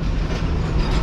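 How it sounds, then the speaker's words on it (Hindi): Karakoram Express slowly pulling away from the platform at Lahore Junction, a steady, loud, low rolling rumble of the train with faint clatter, no voices. "और हमारी train Aahista Aahista platform clear करते हुए निकल रही है लाहौर जंक्शन से।"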